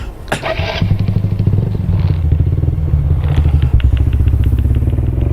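A motorcycle engine starts with a sharp crank, then idles loudly and steadily in a rapid, throbbing putter close by.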